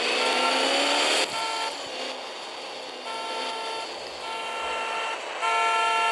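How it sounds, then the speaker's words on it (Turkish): Long sustained car horn blasts in a video game sound repeatedly over continuous engine noise, loud and near, breaking off briefly and resuming several times. "Korna çalın. Korna çalın."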